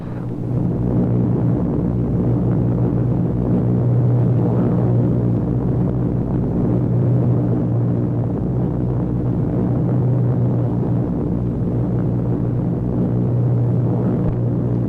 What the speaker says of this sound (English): thunder of engines makes the earth tremble and the ravens rise.